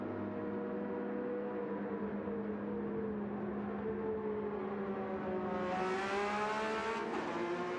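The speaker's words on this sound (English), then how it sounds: "As we hear the GR3 Masters go out, the noise they make." Gran Turismo 7 GR3 race cars at Daytona pulling out onto the track, their engines droning steadily with layered, shifting pitches. Near the end the engine note rises and brightens as they accelerate, and no one speaks.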